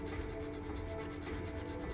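Coarse 280 or 320 grit sandpaper rubs steadily against Vallejo plastic putty on an F-22 Raptor model, giving a continuous, even scratchy hiss close up with no talk.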